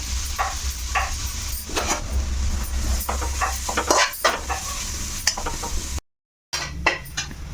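Grated carrot fries in ghee in a pan for carrot kheer, sizzling steadily while a spoon scrapes and clinks against the pan in repeated stirring strokes, with a brief silent gap near the end.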